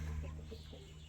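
Chickens clucking in a large backyard flock: soft, faint, low clucks heard over a steady hum, brief and somewhat distant.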